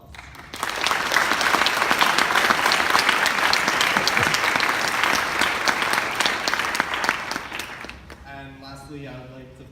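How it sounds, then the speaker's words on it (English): An audience at a senior awards ceremony breaks into loud, sustained applause for teachers, dense clapping that fills most of the stretch before tapering off, with a voice speaking as it fades. "So I would like to give them a round of applause."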